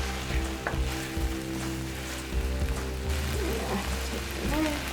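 Chicken frying in a hot pan gives a steady, dense sizzle with crackling spatters, close and continuous, while faint kitchen clatter and brief background voices sit underneath.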